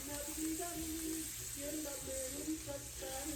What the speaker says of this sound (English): once I get a sizzle in there